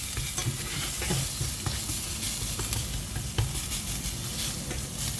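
Seafood risotto ingredients sizzle and crackle steadily in olive oil in a pan, a continuous close frying hiss with occasional stirring clicks and scrapes, no voices.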